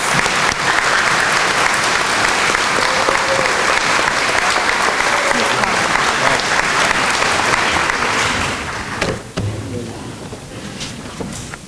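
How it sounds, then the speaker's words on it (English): Sustained audience applause at a school awards night for students, a dense clatter of clapping that tapers off near the end. "Let's give all these students a round of applause."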